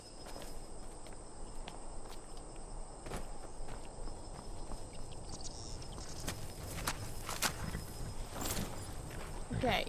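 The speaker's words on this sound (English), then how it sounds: "I can hear the horse." Horse hooves clop along at a walking pace in the video game Skyrim, over a constant bed of chirping insects and ambient noise, with a few sharper knocks.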